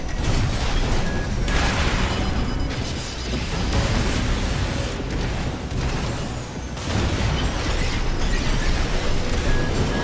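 An armored mech is destroyed in the Armored Core VI video game, with dense, roaring explosion noise and rumbling mechanical bursts filling the whole stretch, loud and continuous with slight swells.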